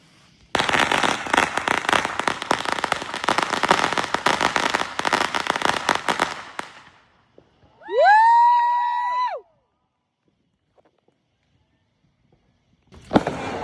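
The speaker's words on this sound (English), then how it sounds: "that was the fireworks" Fireworks and firecrackers set off for a Fourth of July celebration: a long, dense burst of rapid crackling pops for several seconds, then a whistling tone rising and falling, and a final sharp bang near the end.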